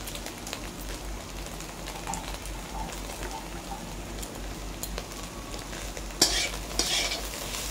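Green chilies and vegetables for street-style egg chowmein being stirred in a frying pan, with a constant crackling sizzle and scraping of the spatula, and a louder clatter near the end.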